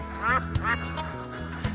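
Farm ducks quacking in a rapid series of nasal calls, fairly close and loud over a steady background hum.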